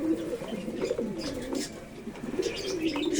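Pigeons at a hobby pigeon farm coo continuously in a low, warbling chorus, close and moderately soft, with faint chirps above.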